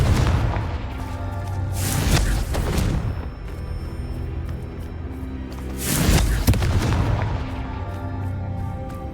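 Two heavy booming blasts of the Confringo fire-explosion spell in the video game Hogwarts Legacy, roughly four seconds apart, each with a long rumbling tail over a constant game backdrop.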